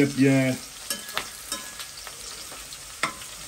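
Onions fry in a pan for rougail hareng, a low crackling sizzle with several sharp utensil scrapes and taps spaced through it. A brief tonal clatter opens the clip; no speech.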